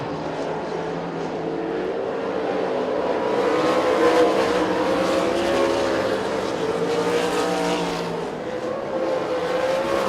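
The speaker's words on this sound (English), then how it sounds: "And they're wheel to wheel off a 2 down the back straightaway." Sprint cars race wheel to wheel on a dirt speedway, a dense, loud engine roar that swells and fades as the pack passes, with no voices.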